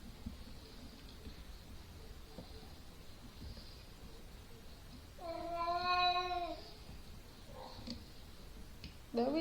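A cat meows once in a drawn-out, clear call near the middle, heard close by in a quiet room during weaving-loom threading, with faint clicks and small handling noises before and after.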